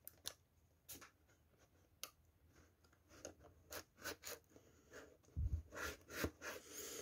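A shipping package of live feeder cockroaches is cut and torn open, with quiet scattered scratches, crinkles and tape rips in irregular bursts, ending in a heavier rustle and thump up close.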